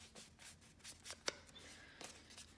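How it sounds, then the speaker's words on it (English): Craft paper being distressed for a Christmas project: a run of soft, dry scraping and rustling strokes close by, with one sharper crackle partway through, fairly quiet and without talk. "I've got to distress this paper a little bit."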